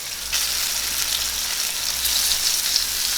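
Asparagus spears laid flat in a hot pan sizzle steadily and close up, a continuous frying hiss that swells slightly partway through, with no talking.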